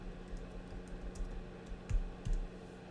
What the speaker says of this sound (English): Let me type in cool of the day.